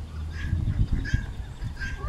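Geese honk repeatedly over a low, rumbling background, several nasal calls spaced across the stretch at moderate distance.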